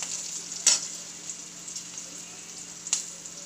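Rice and cumin with green chillies are sautéed in a pan, giving a soft steady sizzle broken by two sharp spatula scrapes against the metal.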